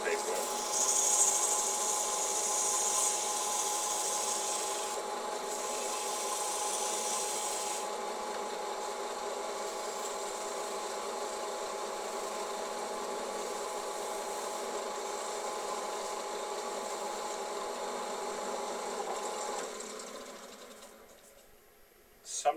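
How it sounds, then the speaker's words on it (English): A wooden bowl cut from a single board being buffed with 600 grit sandpaper over sanding sealer, a steady close rasping rub that runs on evenly before fading out at the end. "just buff out the sanding sealer, and I'm using 600 grit sandpaper"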